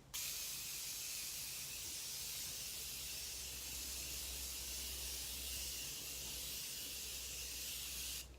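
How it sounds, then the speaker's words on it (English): Morphe Continuous Setting Mist sprays onto a face in one long, even, soft hiss lasting several seconds, close and alone with no voices. "Set the face. I'm using the Morphe Continuous Setting Mist."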